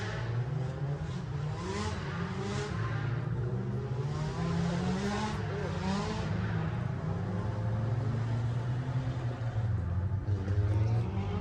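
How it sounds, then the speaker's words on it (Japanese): Cars drifting at a truck show fill the air with continuous loud engine revving and tire roar, a dense sustained wall of sound heard from nearby in an outdoor lot, without voices. "タイヤの音がうるさいかもしれないですね。"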